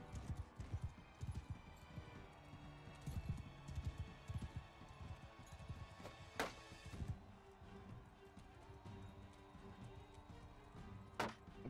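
Horse hooves clip-clop in a steady rapid rhythm while riding in the Land of Sika video game mod, with occasional sharper knocks over a dense busy background.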